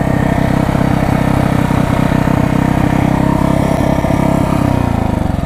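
A 1968 Harley-Davidson motorcycle engine idles a little high, a loud, close, steady rapid thumping that holds without pause and eases slightly at the end, with no voices.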